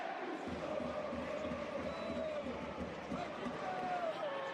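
A football stadium crowd at a Juventus versus Udinese match applauds and cheers a player leaving the pitch as a substitute, a broad, distant roar of clapping and crowd noise sustained throughout.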